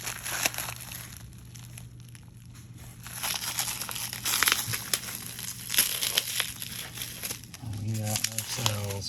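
Bubble wrap crinkles and crumples in bursts as an eBike battery is unwrapped, with a voice speaking briefly near the end.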